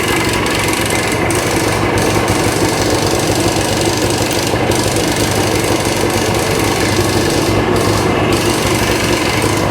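Dense, loud mechanical clatter and rattle from a running vintage 1965 Benelli scrambler motorcycle, continuous and close throughout.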